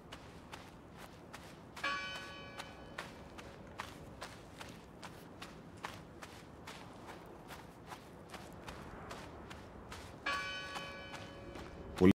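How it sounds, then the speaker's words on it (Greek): Church bell tolling in the video game Draugen, heard as repeated clanging strikes with ringing overtones in two bursts, near the start and again toward the end, over steady footsteps and a low ambient bed. "Ποιος βαράει την τέτοια την καμπάνα ρε μαλάκα?"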